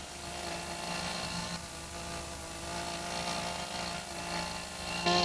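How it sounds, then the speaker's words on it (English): A chainsaw runs continuously and close, its engine buzzing steadily while cutting an angled bevel into a wooden frame for a Galway hooker boat, with slight surges in pitch as it bites. "Putting the frame now with the chainsaw angled is forming the bevel"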